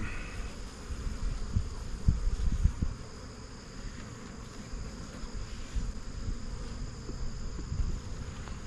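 Dense, steady buzzing of many honeybees at an open hive close by, a constant droning hum with a few louder bumps and rustles.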